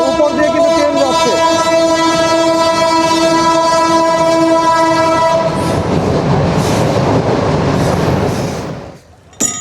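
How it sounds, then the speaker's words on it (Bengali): A train crosses overhead on the Lalon Shah bridge, a loud, sustained horn blast giving way to heavy rumbling and clattering of the wagons rolling above, close and continuous before fading at the end. "উপর দিয়ে কিন্তু ট্রেন ছুটে চলছে।"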